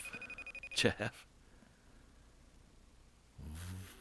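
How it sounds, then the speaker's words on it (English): A telephone bell rings in a home during a casual talk show, two short bursts near the start and another at the end, with a quieter stretch between. "does somebody hear the phone ringing?"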